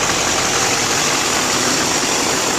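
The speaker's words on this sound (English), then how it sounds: "Engine sounds fantastic." A 2007 Chevrolet Silverado 3500 4x4 with a 6.6-litre Duramax turbo diesel idles close by, a loud, steady, rumbling clatter with no talk over it.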